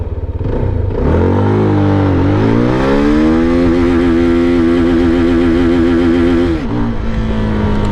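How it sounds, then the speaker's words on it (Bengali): A CFMOTO 300SR with a 300cc engine pulls hard in first gear, its loud engine note climbing steadily in pitch as revs build, dipping briefly once, then holding high before easing off, heard close and alone. "চলুন এবার প্রথমে চেক করে দেখি ফার্স্ট গিয়ারে ম্যাক্সিমাম কতটুকু স্পিড ডেলিভারি করতে পারে এই তিনশো সিসির ইঞ্জিন"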